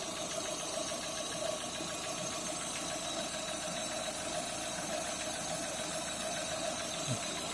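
A vehicle engine idles steadily after starting during a battery charging check, a continuous mid-pitched running hum with faint knocking texture, near and even throughout, no talk.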